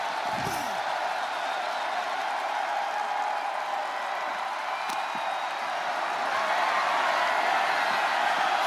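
A raucous arena crowd in the WWE 2K25 wrestling game keeps up a steady roar that swells slightly toward the end, with commentary voices faintly underneath.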